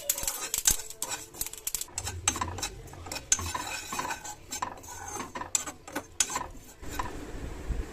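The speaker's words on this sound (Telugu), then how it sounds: "Oats, walnuts, flax seeds, chia, pumpkin, water melon seeds, మకాన్ అన్ని డ్రై రోస్ట్ చేసుకోవాలి." Oats, walnuts, almonds, flax, chia, pumpkin and watermelon seeds dry roasting in a pan rattle and scrape under a stirring spoon, a busy, uneven clatter of small dry pieces heard up close with no talking.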